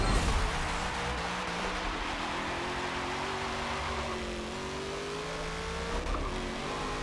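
A race car engine in a driving video game on the Laguna Seca track, played with a Logitech G920 wheel, revs loudly and steadily with shifting pitch and faint tire noise, heard alone without speech.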